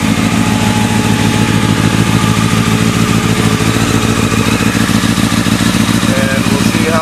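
A street motorcycle idles steadily and loudly up close during an oil change, its even, throbbing engine note running throughout with no change in pace.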